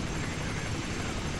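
A helicopter under fire in the video game Ghost Recon Advanced Warfighter, its rotor and engine making a dense, constant roar that stays loud and close throughout.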